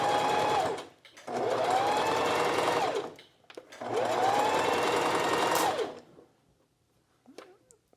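A sewing machine runs basting stitches along the edge of pant fabric in three bursts of rapid mechanical whirring, each lasting one to two seconds with short pauses between, close and clear, with a brief faint noise at the end.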